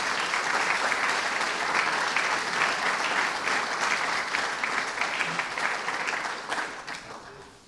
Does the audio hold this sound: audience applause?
yes